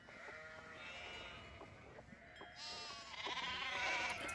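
Sheep bleating in the Nancy Drew game The Haunting of Castle Malloy, several wavering bleats overlapping at a quiet level, rising toward the end with more voices joining.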